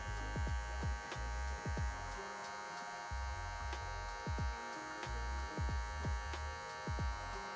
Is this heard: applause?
no